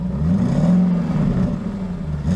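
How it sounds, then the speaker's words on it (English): Engine revving in a cartoon, a continuous low motor rumble that rises in pitch and then falls back, loud and steady with no voices. "Did they have to rev up their engines or something?"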